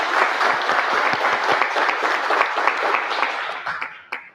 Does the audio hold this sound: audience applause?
yes